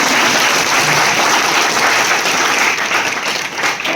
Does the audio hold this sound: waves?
no